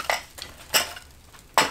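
Pieces of a camping cookware set, including an old pot and a homemade aluminium windscreen for an alcohol burner, clatter as they are handled, giving three sharp, bright metallic clinks at close range.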